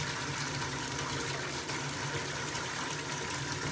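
Water rushing and filling a container as Nikwax Tech Wash solution is poured in for cleaning a hunting pack, a loud steady close gush of running liquid with no voices.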